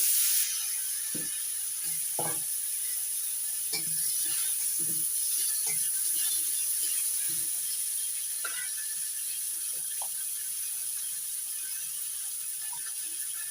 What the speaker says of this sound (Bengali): মাছ ভাজার তেল ছিল ওই তেলের মধ্যেই দিয়ে দিচ্ছি আম